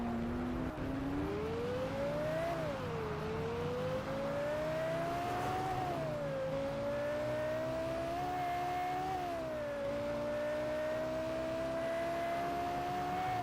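A car engine in the Test Drive Unlimited 2 racing game revs steadily, its synthesized whine rising and falling as the gears shift, continuous and fairly loud with no talk.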